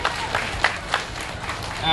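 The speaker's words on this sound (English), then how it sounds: "I want you to give them a big round of applause for all the support they're giving to our great city" Outdoor crowd applause at the Taste of Manila festival in Little Manila, with scattered claps and spikes of cheering under a busy, noisy background; mostly steady rather than loud.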